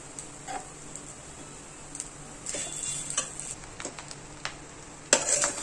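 Coconut rice gets stirred through fried ingredients in a pan, with a soft, steady sizzle under irregular scraping and clinking of the spoon against the pan, ending in a louder scrape.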